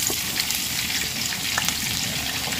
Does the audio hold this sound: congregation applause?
no